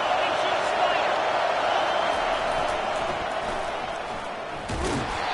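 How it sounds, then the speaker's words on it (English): Football fans at a Penn State versus Notre Dame game roar steadily on first and goal, a loud, continuous wash of stadium crowd noise. "Fans are bringing the noise on 1st and goal."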